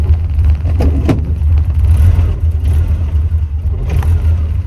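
A car's engine idles at a low, steady rumble up close while the driver works the gear stick into reverse after a short-shifter install, with a couple of faint clunks from the shifter.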